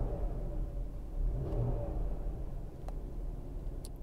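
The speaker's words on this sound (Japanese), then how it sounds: "排気音はこんな感じです" Low, rumbling Porsche Macan GTS exhaust idling with a slight swell of revving, fairly quiet and steady, with a few faint clicks.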